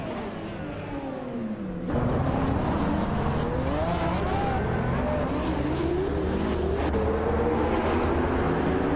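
Supercar engines including a 2013 McLaren P1 roar through a racing video game, a loud sustained drone with shifting pitch as several cars run together, swelling sharply after a brief quieter opening.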